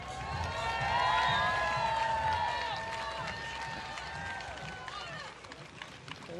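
A crowd at Crankworx Whistler Dual Slalom cheers for a rider, a steady broad roar with whistles and shouts, loudest early and easing slightly toward the end.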